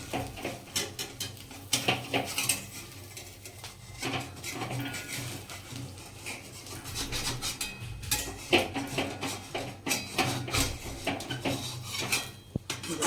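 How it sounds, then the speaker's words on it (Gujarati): Metal spatula scraping and prying a bottle gourd handvo loose from a hot pan, a busy run of rasping scrapes and clinks repeating unevenly, close and clear with no talk. "હવે જો આપણે આ રીતના તાયતાની મદદથી બધી બાજુ આવી તો ઉખાડી નાખીએ."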